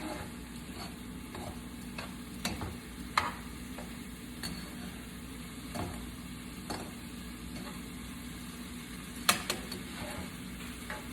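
Food frying quietly in a pan while being stirred, a low steady sizzle punctuated by scattered scraping clicks and taps of a utensil, one louder knock late on.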